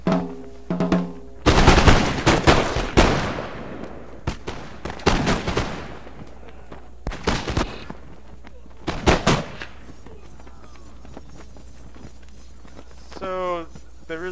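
Musket volleys in the strategy game Empire: Total War during a Louisiana campaign battle against the Cherokee: several loud, ragged bursts of crackling gunfire in clusters, with faint voices and quieter gaps between the volleys.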